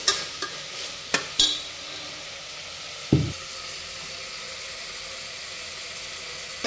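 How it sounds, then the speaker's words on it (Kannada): Frying in a little oil for tomato rice bath, a soft continuous sizzle under scattered sharp knocks and scrapes of a spoon stirring against the pan, with no speech. "ಸ್ವಲ್ಪ ಎಣ್ಣೆ ಬಿಟ್ಕೊಂಡ್ರೆ ಫ್ರೈ ಆಗ್ತಾಯಿದೆ ಅಂತೇಳಿ."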